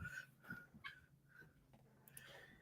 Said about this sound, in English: Want to bark at everything.